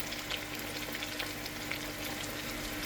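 Goan-style green masala fish cutlets shallow-frying in oil over a medium flame, a close, even, crackling sizzle with no breaks and no talking.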